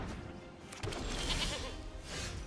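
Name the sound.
goat bleat in the video game MTG Arena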